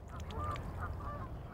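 Geese honk at a park pond in Kensington Gardens, London, a few quiet calls in quick succession over a low background murmur.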